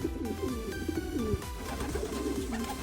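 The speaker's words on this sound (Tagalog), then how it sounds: "So yun mga kalapatids." Racing pigeons coo in soft, overlapping throaty warbles at close range, a continuous gentle murmur from a loft of birds just back from a long-distance race in New South Wales.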